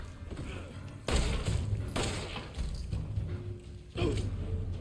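Heavy pistol rounds fired in Resident Evil: three sharp, loud reports roughly a second apart, each with a booming low tail and ringing echo, over steady game ambience.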